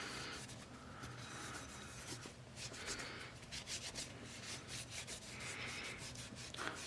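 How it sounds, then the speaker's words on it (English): A rag wipes down the outside of a Sig Sauer P365 XMacro pistol slide, rubbing along the serrations. The strokes are soft and continuous, and the overall level stays faint. "I'll take one more rag and I will just wipe down the outside of the slide"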